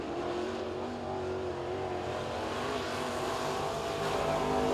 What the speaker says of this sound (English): Next car to qualify, this is the 112 of Dustin Dyden.